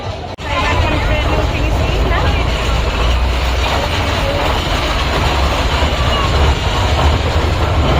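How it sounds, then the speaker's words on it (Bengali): A steady, loud rumble of a small ride-on train at a zoo in motion with faint rattling, and a hubbub of voices underneath. "এখন আমরা ট্রেনে উঠবো, তাই না নুসাইবা?"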